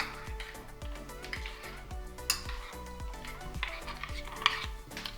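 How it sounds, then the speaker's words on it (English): A spoon scrapes and stirs through thick oats in a bowl, in a steady repeating rhythm with occasional light clinks against the side. "Give it another little mix up."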